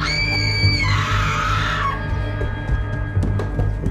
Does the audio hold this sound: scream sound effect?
yes